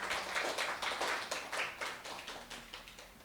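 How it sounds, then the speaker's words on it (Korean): A church congregation at a Sunday service applauds in welcome, a short burst of moderately loud, even clapping that tapers off within a few seconds. "우리 박수로 환영하겠습니다."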